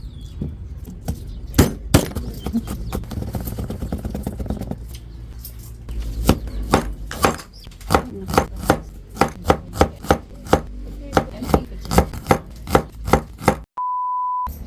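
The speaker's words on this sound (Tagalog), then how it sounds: "ito na pong sibuyas at bawang naman ang atin pong hihiwain" A knife chops onion and garlic on a board in crisp, close knocks, first in a quicker burst and then in a long, evenly spaced series, ending with a short electronic beep.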